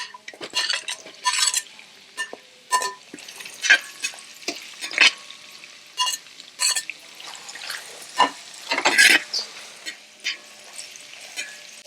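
Chopped onions sautéing in a pan for Kerala-style chicken stew, with a steady soft sizzle under repeated spoon scrapes and metallic clinks against the pot, fairly close with no talking.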